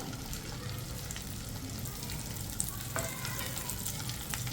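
Sliced okra softening in a spoonful of oil in a pan, giving a steady, close sizzle and crackle throughout with a faint stir near the end.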